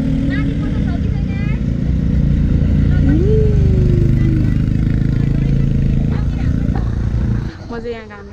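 A motorcycle rides steadily with a loud, continuous engine drone and road rumble. Voices speak over it, and the engine noise drops near the end.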